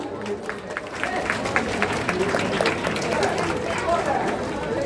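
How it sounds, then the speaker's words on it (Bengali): A school audience at an Independence Day ceremony applauds in a sustained wash of many hands clapping, with crowd chatter mixed in, steady and moderately loud throughout. "জোরে করতালি দেবে।"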